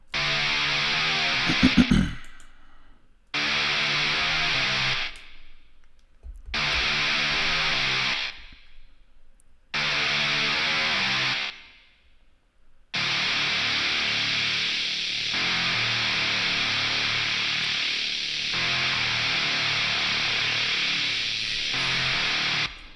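Black metal melody played through a Guitar Rig Blues 74 preset on a Serum synth, in loud sustained bursts that cut off sharply, then a long unbroken stretch.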